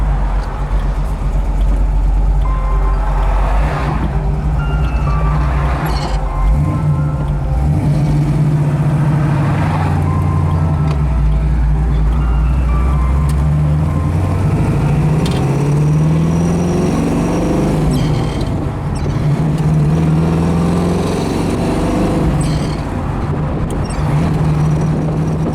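A 1968 Camaro convertible accelerates and shifts up through all four gears, its engine note rising and dropping with each change and running loud and close throughout.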